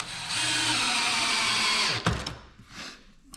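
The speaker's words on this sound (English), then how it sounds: "And you drill that pretty slowly." A power drill pre-drills slowly into wood for a cabinet face frame, whining steadily for about two seconds before stopping with a clunk and some brief handling noises.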